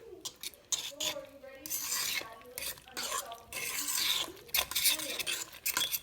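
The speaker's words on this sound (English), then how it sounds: "So I'm going to keep stirring this for about maybe 5 more minutes" A spoon stirs gizzard gravy in a pot, scraping and clinking against the sides in quick uneven strokes with a soft bubbling sizzle underneath, close and fairly loud.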